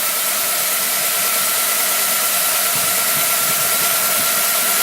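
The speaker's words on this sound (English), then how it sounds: "Turbine's going, we'll go see if it's dry or wet." A steam turbine fed by a steam boiler during a test burn runs with a loud, constant hissing roar and a faint steady whine, close by and unbroken.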